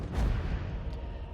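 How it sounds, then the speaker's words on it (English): Artillery piece firing during a Total War battle: one heavy, deep boom up front that rolls out into a low rumbling tail, loud and alone. "Now the artillery got an okay amount of kills."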